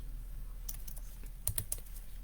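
Keys clatter on a computer keyboard in a quick burst of typing and backspacing, several sharp close clicks with no talking.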